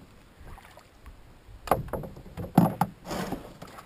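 Canoe paddle strokes dip and splash in water, a few irregular close wet pulls and knocks with quiet gaps between them.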